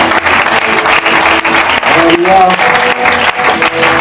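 A church congregation applauds during a worship service, a loud dense wash of clapping filling the room throughout, with a voice calling out briefly over it.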